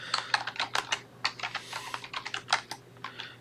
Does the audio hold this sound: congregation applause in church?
no